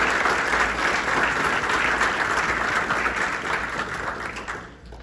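Sustained, loud applause from an audience at a 2021 school alumni speech event as Morgan walks to the podium. The steady clapping fills the whole stretch and eases off slightly near the end.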